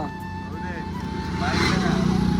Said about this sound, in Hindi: दुईटा बाइक जाऊँचे आहर गोटे बाइक पछर आस